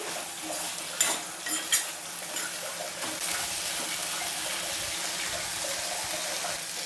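Beetroot fry is stirred and mixed in a pan, giving a steady low sizzle with a few sharper scrapes and clinks of the spoon early on, and no talking.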